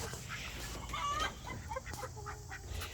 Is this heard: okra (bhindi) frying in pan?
no